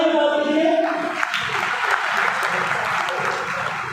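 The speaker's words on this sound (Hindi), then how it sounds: "आप उनके लिए तालियां बजा दीजिए।" Audience applause at a Partition Horrors Remembrance Day gathering in Karnal, a broad burst of clapping that rises after a voice at the start and carries on steadily.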